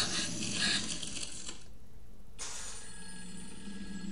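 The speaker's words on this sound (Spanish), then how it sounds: "Como el teléfono nunca va a dejar de sonar." Telephone ringing in the horror video game Project Zero, a harsh mechanical bell rattle that cuts off briefly midway and then resumes more softly over a low ambient drone.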